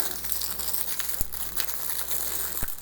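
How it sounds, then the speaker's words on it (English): Crinkling and tearing as a taped plastic wrapper is peeled off a small package, a steady crackle with two sharp rips, fairly faint and close, no voices. "we'll go ahead and take the wrapper off of this"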